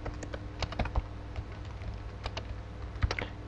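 Fingers type a connection name on a computer keyboard, sparse soft key clicks in short uneven bursts with a few louder taps, close and quiet, no voices.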